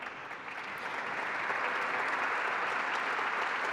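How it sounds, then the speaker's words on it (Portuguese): An audience at a formal civic award session for diversity and rights breaks into sustained applause, a thick, even roar of many hands that swells slightly after the first second and then stays constant. "Palmas."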